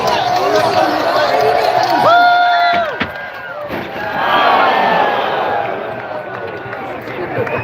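Spectators at a Red Bull Soapbox race in Edmonton cheer and shout in a loud, continuous crowd roar that swells and dips, with voices and whoops rising out of the mass and talk mixed in.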